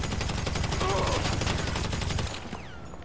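Gunfire in GTA V rattles in a dense, rapid burst of loud shots that fade to quieter game sound near the end.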